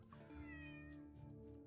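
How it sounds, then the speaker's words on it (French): A cat meows in the Wild West video game Cat Search in the Wild West, one drawn-out, clear meow heard alone over a steady game backdrop. "Là, il y a un chat."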